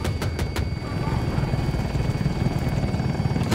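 Helicopter in Battlefield 2042, a KA-520 Super Hokum, throbbing with a steady rotor chop and engine roar close up, with a few sharp impacts at the start.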